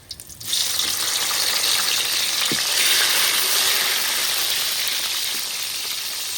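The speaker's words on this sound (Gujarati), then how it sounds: "જેવી રીતે મરચાં તળાને એવી ને એવી રીતે આપણે ટમેટાને થોડાક તળાવવા દઈશું" Tomatoes added to chillies sizzle in a hot pan with oil, a loud, steady frying hiss that starts abruptly and holds evenly throughout with no voices.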